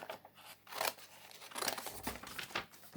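Scissors cut out a paper planet for a kids' art craft, sounding as several close, crisp snips and rustling crinkles of paper in quick irregular bursts, with no talking.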